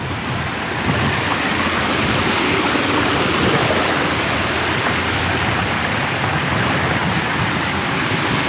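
A small artificial river runs into the sea along the coast at Akashi, Hyogo, Japan, giving a steady, loud broadband rush of flowing water with no break or voices throughout.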